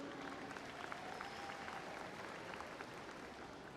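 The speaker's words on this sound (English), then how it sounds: "Please give yourselves a round of applause too." An audience at a high school graduation applauds in a dense, steady wash of clapping that holds at an even level throughout, moderately distant and with no speech on top.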